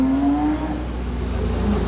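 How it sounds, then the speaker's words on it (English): A flat-six Porsche sports car at a classic car and aircraft event drives close past with a loud, steady engine drone that shifts slightly in pitch, heard alone. "Try not to get flattened by the flat six Porsche."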